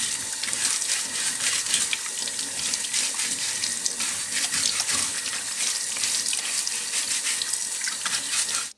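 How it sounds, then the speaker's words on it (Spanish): Sweet potatoes are washed under a running kitchen tap to loosen stuck-on soil, a close, steady rush of water splashing over them with slight shifts as they are handled, ending abruptly. "Vamos aquí a lavar nuestros camotes, porque estos también tienen tierrita pegada."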